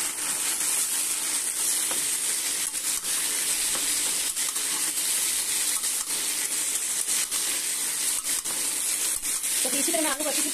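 Pointed gourd with masala fries in a pan, a continuous close sizzle with occasional stirring scrapes, and a voice speaking faintly near the end.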